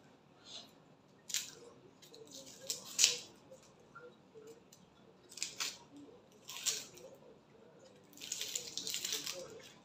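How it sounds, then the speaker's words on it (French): A knife cutting through an onion in a home kitchen: a handful of crisp, close crunching cuts at irregular intervals, the last a longer rasping stretch, over a quiet room with faint background voices. "Donc je vais couper déjà un oignon."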